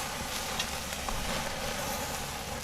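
Steak searing over the hot sear zone of a grill, giving a faint, even hiss of fat and juices that holds steady for a couple of seconds, with no voices.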